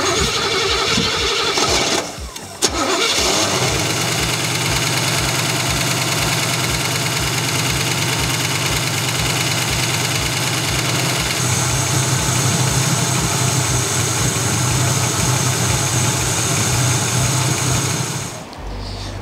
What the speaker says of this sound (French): le moteur il a démarré